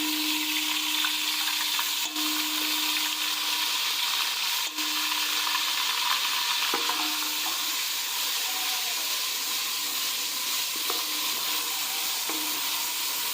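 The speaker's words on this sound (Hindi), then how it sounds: "एक से 2 मिनट के लिए भुनेंगे इसे, लहसुन अदरक को।" Garlic ginger paste frying in hot oil in a pot for nihari, a steady close sizzle and crackle with faint stirring clinks running throughout.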